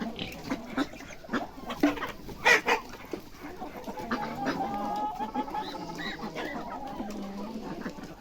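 A flock of red chickens clucks and chatters steadily while a rooster crows through the middle, close by outdoors in a village yard.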